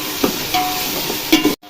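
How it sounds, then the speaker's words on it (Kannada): Tomato and onion fry in a pan for chicken biriyani, a short close sizzle broken by a few scraping stir clatters before it cuts off abruptly. "ನೆಕ್ಸ್ಟ್ ಟೊಮೊಟೊನ ಹಾಕ್ತಿದ್ದೀನಿ. ಚೆನ್ನಾಗಿ ಫ್ರೈ ಮಾಡ್ಕೊಳ್ಳಿ ಟೊಮೊಟೊ ಮತ್ತು ಈರುಳ್ಳಿ."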